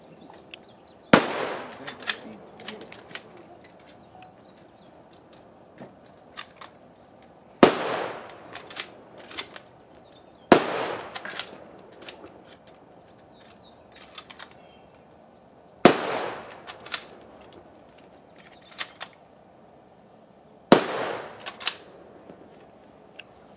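A 7.7 mm bolt-action rifle fired at an outdoor Vietnam reenactment demonstration at Camp Mabry: six sharp, loud cracks spaced a few seconds apart, each with a ringing echo tail, and quieter handling clicks between shots.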